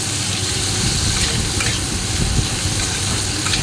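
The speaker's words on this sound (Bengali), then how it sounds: "পেঁয়াজটা লাল লাল করে ভাজবো, যতক্ষণ না পেঁয়াজটা একটু লাল লাল হচ্ছে" Onions frying in a pan until reddish, a continuous close sizzle and crackle with a few stirring scrapes, steady and moderately loud with no talk.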